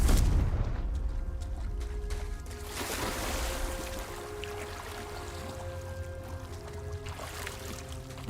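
A Confringo fire spell going off in Hogwarts Legacy, a deep booming blast at the start that rolls into a rumbling, crackling tail with lingering tonal game effects.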